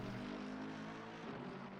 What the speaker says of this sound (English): The noise of that Mercedes.